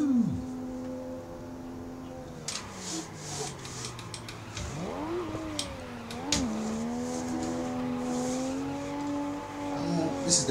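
A car slides and drives through corners in the Assetto Corsa video game at the Ebisu Complex: a steady engine drone that dips and rises as it revs through each bend, with tyre scrubbing and occasional squeal.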